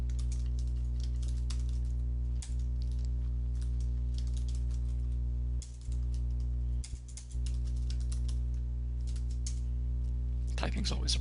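Computer keyboard typing for a text chat, clattering in irregular bursts of keystrokes over a steady low hum, with brief pauses and a denser flurry near the end.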